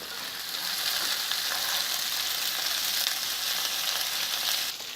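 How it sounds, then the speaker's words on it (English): Lamb meatballs sear and caramelize in a pan with a loud, dense, continuous sizzle that holds steady, then drops slightly right at the end, and no one talks over it. "We're gonna let each side just caramelize and we'll flip it over."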